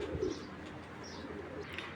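A red checker pair of racing pigeons makes a short coo near the start, then only soft, faint chirps and ambient hiss follow.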